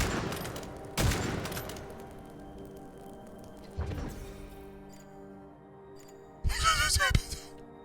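Stake gun firing in the video game Witchfire, a few heavy sharp shots spaced out among game sounds, with a louder burst of impacts near the end and a person talking throughout.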